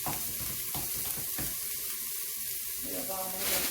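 Caramelized onions sizzle in a pan while berkoukes is being cooked, with a steady close frying hiss and faint stirring clinks, and some brief rustling.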